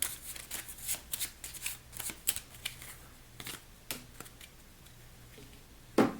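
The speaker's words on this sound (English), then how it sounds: "we need to shuffle our discard pile to get up to 6" Cards from the discard pile of an Apex Theropod deck-building game are shuffled by hand: a run of close, crisp riffling bursts and soft card slaps, repeated in uneven rhythm, with a louder snap near the end and no talking.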